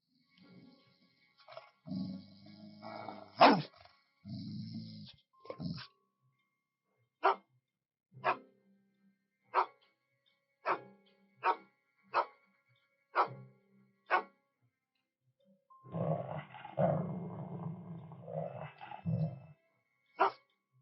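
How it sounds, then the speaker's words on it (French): A dog growls in longer rumbling stretches at the start and end, with a run of about ten sharp, evenly spaced barks between them. The barks are moderately loud against near silence. "Pourquoi est-ce que Scott aboie"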